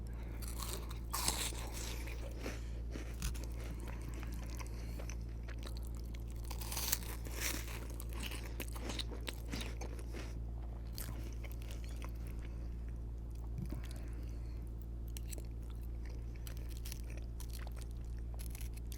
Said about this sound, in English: The cheese puffs give it a nice crunch.